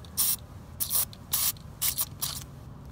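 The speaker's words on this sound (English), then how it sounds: "And I'm gonna just spray it up a little bit." Aerosol power lube is sprayed into an Acura TL front brake caliper piston in five short, sharp hissing bursts, close and evenly spaced with brief pauses between them.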